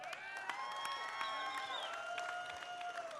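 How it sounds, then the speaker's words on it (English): Faint, distant applause and cheering from a concert audience at an outdoor Levitt venue, a steady wash of clapping with scattered whoops running throughout. "a huge, huge round of applause"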